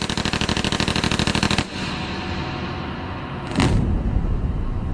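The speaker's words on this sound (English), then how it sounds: "I fired several rounds, a small burst into him." An MP5 submachine gun fires a rapid, evenly spaced burst for about a second and a half, loud and close, followed by a lingering rumbling tail and a second sharp blast.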